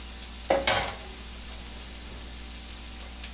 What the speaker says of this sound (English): Now I want to saute this for about 10 minutes until it starts to get tender